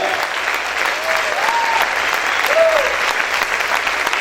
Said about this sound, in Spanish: Vamos a aplaudir fuerte al Señor en esta hora